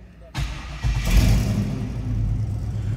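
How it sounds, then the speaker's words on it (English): A 1977 GMC Sierra Classic K15 4x4 pickup engine cranks and fires, catching quickly and settling into a steady, loud low rumbling idle close by. "Starts easily enough,"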